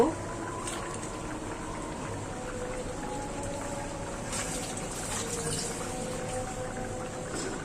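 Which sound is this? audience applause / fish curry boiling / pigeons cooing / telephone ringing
fish curry boiling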